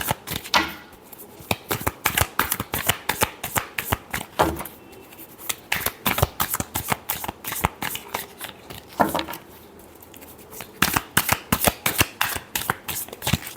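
Tarot cards being shuffled by hand, a dense run of quick papery riffles and slaps repeating close to the mic for over ten seconds with no talking.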